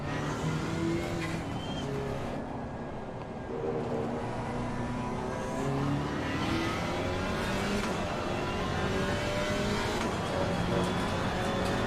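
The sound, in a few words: GT4 race car engine at Silverstone, from a racing video game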